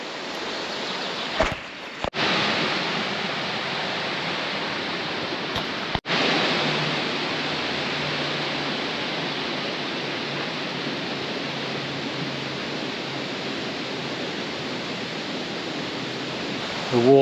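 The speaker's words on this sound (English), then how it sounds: "We're just heading upstream by this beautiful stream" Rushing mountain stream in the Swiss Alps, clear ice-cold water flowing close by in a steady, broadband hiss that runs unbroken throughout, with a couple of brief dropouts near the start.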